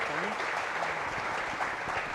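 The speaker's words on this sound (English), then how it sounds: "a round of applause for our speakers" An audience at a conference session on methane emissions claps for the speakers, a dense, steady round of applause lasting the whole moment.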